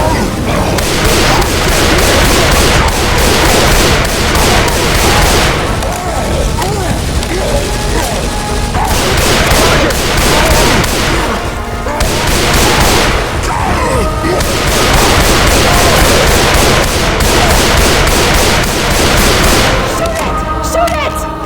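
Dense, continuous gunfire in Left 4 Dead 2 as players blast at a Tank, with rapid bursts and booming shots layered over shouting voices and game noise throughout.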